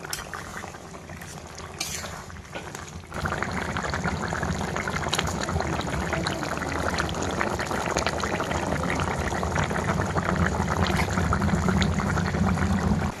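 Curry of pumpkin stalks and potato boils hard in a pot over a village fire in the Sundarbans, a steady, close bubbling and churning that swells louder after a few seconds and continues unbroken with no talk.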